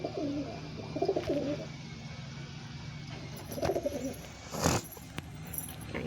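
Pigeons in a backyard loft coo in low throaty bursts, a couple of soft rolling calls near the start and middle, with a sharp flutter or knock near the end against quiet outdoor ambience.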